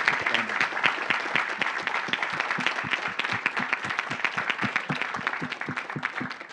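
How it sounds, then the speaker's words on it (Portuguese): Audience applause for a guest speaker at a university financial event, steady clapping from a crowd in a hall, moderately distant and continuous. "Queria pedir uma salva de palmas para ele também"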